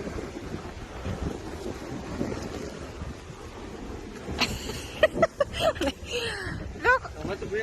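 Strong sea waves and gusting wind on a family fishing boat outing, a rough rumbling wash with wind buffeting the microphone, while people talk and call out over it in the second half.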